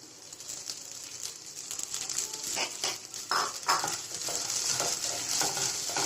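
Red poha being stirred in melted ghee in a pan gives a soft, continuous sizzle with intermittent scraping strokes of the spoon, fairly faint and close, with no talking.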